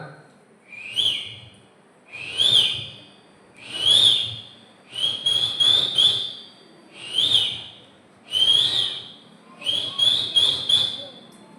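A voice whistles an Asian koel imitation during a mimicry act at a church feast-day celebration, seven rising calls in a slow, evenly spaced series, some doubled or tripled, fairly loud and alone.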